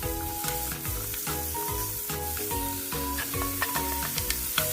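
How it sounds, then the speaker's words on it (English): Meat and carrots stir-frying in cooking oil over medium-high heat for Korean royal court rice cakes, a steady close sizzle with repeated rhythmic scrapes and clacks of a spatula stirring the pan. "Over medium-high heat, stir-fry the meat first with some cooking oil."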